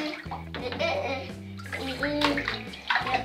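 A small child splashing in bath water among toys, with loud, close sloshing and splashes in uneven bursts, while an adult and someone talk over it.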